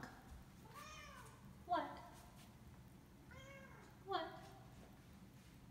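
A cat meows twice, a few seconds apart, each call rising and falling and fairly close, with a person speaking in between as it explores the area.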